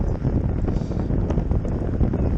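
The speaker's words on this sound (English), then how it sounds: "we're back to the section where we're heading into a headwind" Heavy wind roars across the microphone while cycling into a headwind on a group ride, a dense, continuous buffeting rumble that stays loud throughout with no other sounds standing out.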